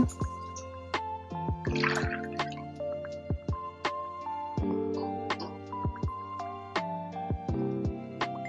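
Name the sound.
tumbler of water poured into a pot on the stove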